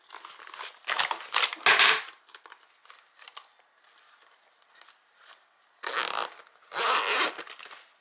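Zipper on a packed makeup bag pulled shut in several short rasping strokes with pauses between, close and crisp, mixed with light crinkling of the bag's fabric.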